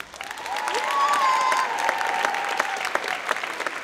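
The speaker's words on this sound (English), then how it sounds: "applause for all the first acts and second acts here this evening" Audience applause at a high school talent show, a dense sustained burst of many clapping hands with a faint tonal note running underneath, fairly loud and steady before easing slightly toward the end.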